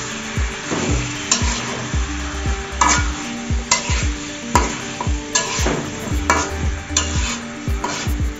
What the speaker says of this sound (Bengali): মাংসটা দেওয়ার পর ভালোভাবে উল্টিয়ে পাল্টিয়ে নেড়ে মশলাটা মাংসের সাথে মিশিয়ে নেব।